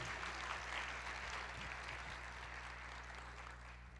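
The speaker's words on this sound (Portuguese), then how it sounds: "Pode aplaudir o Senhor." Congregation clapping in a church service, a steady broad wash of applause that fills the space continuously and evenly, fairly loud, with no talk over it.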